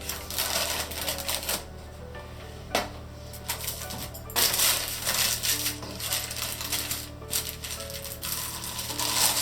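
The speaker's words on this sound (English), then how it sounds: "you can just cut it into whatever shapes. I generally cut them into long bars" A knife cutting a chilled slab of pressed dough into long bars, with repeated crisp crunching and clicking strokes against a board over a steady low hum, close and fairly loud.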